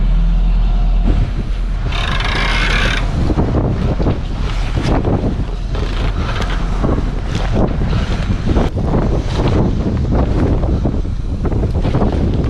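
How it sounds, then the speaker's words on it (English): A small auxiliary engine on a sailboat off Ireland's west coast runs steadily beneath loud, constant wind buffeting the microphone, with water and hull noise mixed in throughout. "This just until I get everything sorted, I'm gonna have a little engine."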